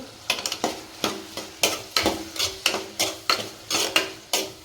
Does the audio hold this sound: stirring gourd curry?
yes